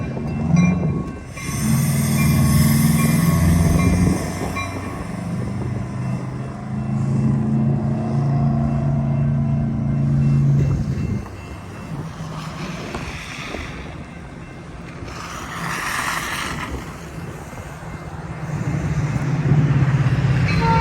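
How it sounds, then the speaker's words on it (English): Eastbound Metra 1264 commuter train from Aurora to Chicago Union Station passing through snow at LaGrange, Illinois, around 70 mph: a loud rumbling rush of wheels and wind with hissing swells as the cars go by close. "it's the eastbound Metra 1264 heading from Aurora to Chicago Union Station"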